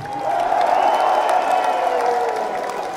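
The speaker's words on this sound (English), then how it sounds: "Please give a big round of applause" A live concert crowd in Finland claps and cheers for a band member's introduction, a dense wash of applause with scattered whoops rising quickly, holding steady, then thinning slightly at the end.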